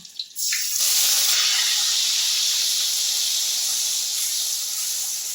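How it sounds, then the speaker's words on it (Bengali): Ground onion paste hits hot oil that was used to fry chicken, on a low flame. It bursts into a loud, sudden hiss that settles into a strong, steady sizzle with no talking. "এইবার আমি এর মধ্যে দিয়ে দিচ্ছি বেটে রাখা পেঁয়াজটা।"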